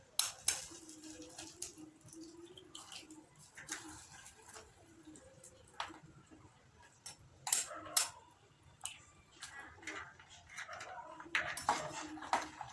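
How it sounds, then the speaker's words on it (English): Eggs being cooked in a frying pan for fried rice, with scattered clinks and scrapes of a utensil against the pan over a faint low sizzle, no talking. "after that we put on the eggs like this into the frying pan"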